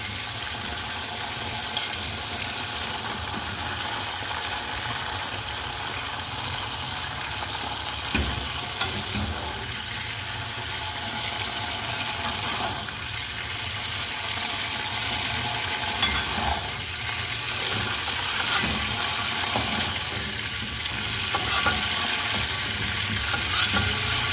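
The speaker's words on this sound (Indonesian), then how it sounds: "ini tuh cukup sampai segini aja ya kita menggorengnya." Continuous crackling sizzle of food deep-frying in hot oil in a home kitchen, with occasional sharper pops and spits over a steady hiss.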